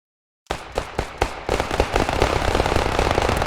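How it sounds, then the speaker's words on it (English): Rapid bursts of gunfire in a WWII video game set at Arnhem, a few spaced loud shots followed by dense, continuous crackling volleys, close and harsh with no talk. "The victory shots"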